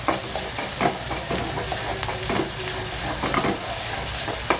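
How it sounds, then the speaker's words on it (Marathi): Onion frying with chili and crushed garlic for zunka sizzles steadily in a pan, with frequent close spoon scrapes and clinks from stirring over the hiss. "आता कांदा थोडासा लाल झालेला आहे, त्याच्यामुळे टाकणार आहे आपण मिरची, ठेचा, लसूण,"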